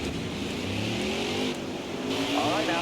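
A NASCAR truck engine in the NASCAR Heat 4 racing game drones loudly and steadily through a practice lap, its pitch rising and shifting as it accelerates, with no voices.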